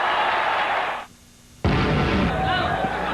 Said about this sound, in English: Crowd is into this one.